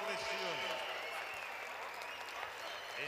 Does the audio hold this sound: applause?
yes